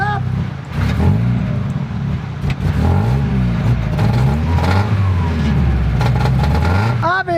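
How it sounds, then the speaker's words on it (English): Mazda Miata engine running rough with a fault, revving up and down with uneven sputtering and backfire-like popping, loud and close, with someone talking over it. "Here we have a Mazda Miata, and as you can hear, it's running like crap."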